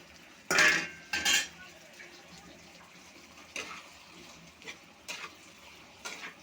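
Bitter gourd and potatoes are stirred in a pan, with two loud metallic scrapes of the spatula near the start, then softer clinks and scrapes spaced out over quiet kitchen background.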